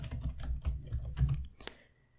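Someone typing a search word on a computer keyboard, a quick run of soft close keystrokes lasting under two seconds, ending in a sharper final tap and then quiet.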